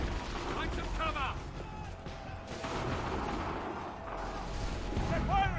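Battle gunfire in Assassin's Creed 3, heavy and continuous beneath shouting voices, with volleys and booms mixed into a dense wash of noise.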